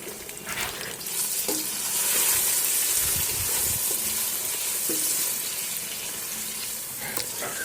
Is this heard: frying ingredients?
yes